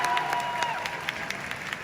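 Audience applause at the Miss Universe Thailand 2020 pageant for the top three finalists: a steady, dense wash of clapping with a few sharper claps and faint tonal sound behind it, lasting under two seconds.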